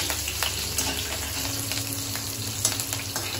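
Whole spices — bay leaf, dried red chillies, asafoetida and chopped green chillies — frying in hot oil in a pan, a steady close sizzle with faint scraping stirs throughout.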